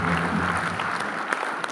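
A church congregation applauding at a sermon, a short burst of dense clapping that fills the space, steady throughout and trailing off slightly at the end.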